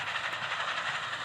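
A train in a Roblox game rumbles steadily and continuously at moderate level, with a broad, even rolling wash and no breaks or whistle standing out.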